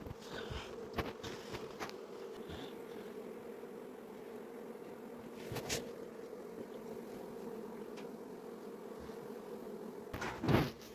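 Honey bees buzz continuously while being moved from a nucleus hive into a new hive, a dense steady hum with a few louder close passes and occasional wooden knocks.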